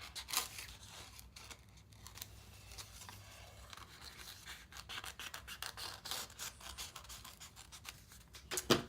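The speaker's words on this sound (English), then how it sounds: "I'm just going to take my scissors and I'm going to cut a generic feather shape" Scissors snip and scrape through thin, crisp wafer paper in a series of close, dry cuts and rustles, with no talking.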